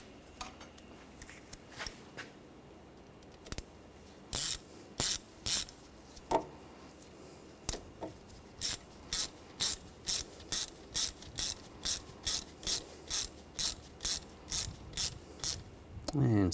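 A hand ratchet snugs down a screw during front wheel bearing and hub replacement on a 2013-2019 Ford Escape, giving sparse clicks at first, then a rapid, regular run of close, sharp ratcheting bursts.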